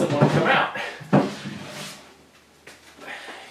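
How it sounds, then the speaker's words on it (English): A sticking wooden drawer is dragged out of the bottom of a painted chest of drawers, rubbing against the drawer blade above it. It gives a sharp wooden knock and scraping near the mic, and a person talks over it. "I'll take out this bottom drawer"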